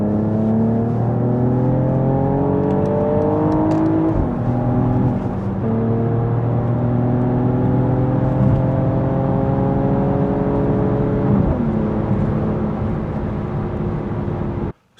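Mercedes GLE 53 AMG engine revving loudly from inside the car, rising through several gears with clear shift drops and a steady powerful whir that builds again after each change.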